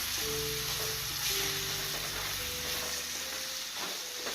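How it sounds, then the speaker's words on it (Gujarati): Tomatoes sautéing with onions in a pan while making masala bhindi, a steady close sizzle and crackle of frying with faint stirring, continuous throughout and without talk. "તો હવે એમાં ટામેટું નાખીશું। તે પણ 2 થી 3 મિનિટ સોતે કરવાનું"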